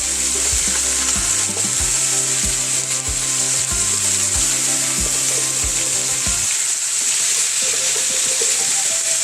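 String beans (sitaw) stir-frying in a hot pan, a steady loud sizzle with rhythmic scraping strokes of the spatula for most of the clip, then the sizzle continues alone.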